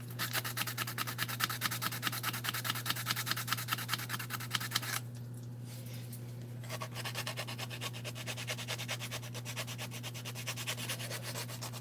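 A small handheld sander runs close up with a steady buzzing rasp over a constant motor hum, pausing briefly midway before resuming.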